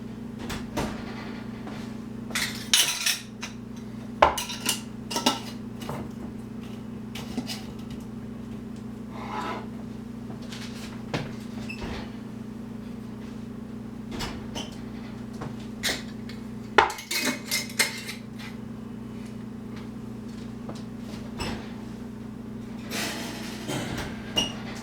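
Glass canning jars for dry canning are lifted out of a hot oven, with scattered clinks, knocks and a door-like clunk over a steady kitchen hum, no talking.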